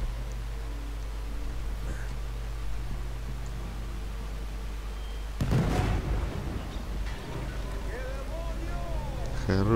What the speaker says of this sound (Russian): Хороший взрыв был.